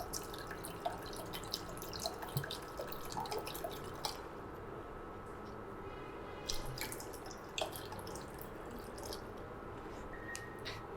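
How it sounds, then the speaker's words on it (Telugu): Water poured into a pot on a switched-on stove for making tea, a soft steady trickle with intermittent drips and splashes, fairly quiet and close, with no voices. "గిన్నె పెట్టుకుందాం, కొంచెం వాటర్ వేసుకుందాం"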